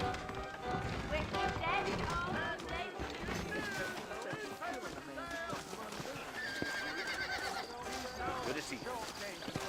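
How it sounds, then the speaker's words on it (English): A horse whinnies amid clopping hooves in the video game Red Dead Redemption, layered with busy game sounds and a voice talking over it. "I got the horses saddled up and ready out front."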